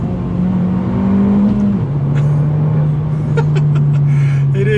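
Abarth 595 Esseesse with a five-speed manual gearbox, its engine note steady and loud, then dropping in pitch as a gear change comes through, followed by a sustained lower drone with faint clicks from the cabin.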